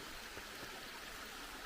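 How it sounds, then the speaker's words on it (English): Water from the Mary Steele waterfall on the Lathan Cemetery Loop Trail streams steadily in a broad, even rush, close by and with no voices. "they named this waterfall after her, the Mary Steele waterfall."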